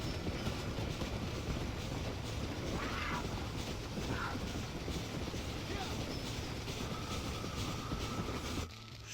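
Train rolling along in the Red Dead Redemption video game, a steady low rumble with faint clattering that carries on throughout, briefly dropping off near the end.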